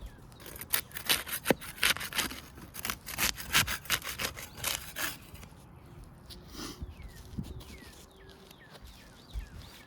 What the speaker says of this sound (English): We use the putty knife to unseal the top shingle.